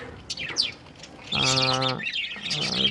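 Male budgerigars about ten months old chirp and twitter in quick bursts in a flying cage aviary, with one bright, sustained trill in the middle, close by and fairly loud.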